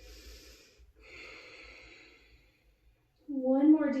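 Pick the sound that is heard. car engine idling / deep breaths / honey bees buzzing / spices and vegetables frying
deep breaths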